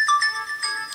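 A phone ringtone plays in a quick melodic run of bright electronic notes, short and moderately loud with nothing else heard.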